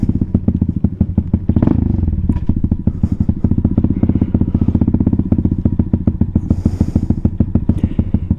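A Venom Thunder 125cc motorcycle engine idles up close with a steady, rapid pulsing chug that stays loud and even throughout, with a brief clatter early on.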